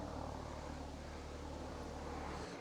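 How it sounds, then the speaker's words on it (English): A large STARS air ambulance helicopter passes overhead as a steady, broad low rumble and whoosh, moderately loud and continuous with no talking. "Look at a big helicopter coming here."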